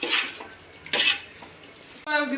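Egg biryani masala is stirred in a cooking pot, with a metal spoon scraping and clinking against the sides in a few distinct bursts over a low background, ending in a louder clatter.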